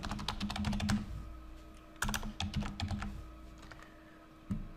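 Keystrokes on a computer keyboard while a name is typed into a Revit interior design project, with close, crisp clicks in quick irregular bursts, a pause, another burst, and a final single tap.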